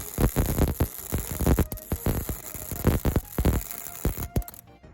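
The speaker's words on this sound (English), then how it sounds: "This last example I'm going to show you is a weld without the gas." A MIG welder running without shielding gas, a loud, close, ragged crackle of irregular pops and sputters that goes on steadily for a few seconds, then cuts off.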